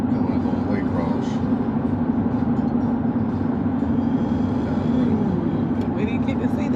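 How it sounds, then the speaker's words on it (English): A passing train makes a steady low rumble with a droning hum, continuous and moderately near, with faint scattered clicks on top. "Train going to work."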